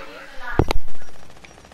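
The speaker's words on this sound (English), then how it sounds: "Oh my, I just got shot at." Gunfire in the video game Fortnite, a quick pair of sharp shots close together, then a decaying tail, with a player talking around it.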